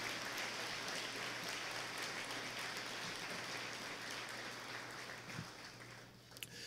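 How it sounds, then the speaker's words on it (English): Audience applause at a Boys & Girls Club fundraising luncheon in a banquet room, a continuous, even wash of many hands clapping for several seconds, softening slightly near the end. "Please give these individuals a big round of applause."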